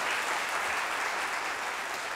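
Steady applause from a church congregation during a sermon, a dense wash of clapping that holds at an even level throughout with no voices standing out.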